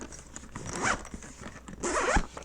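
A zipper on a headphone carrying case for the Meze Liric closed-back headphones is pulled closed in two quick, close rasping strokes, with a brief pause between them and no talking.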